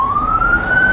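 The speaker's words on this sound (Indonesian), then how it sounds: "Ambulan Pak." An ambulance siren sounds loud and close beside a road, its single wailing tone rising steadily over a rumbling engine and traffic noise.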